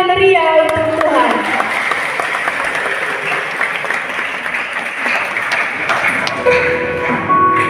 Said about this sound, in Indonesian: Mari kita berikan tepuk tangan yang meriah untuk Tuhan.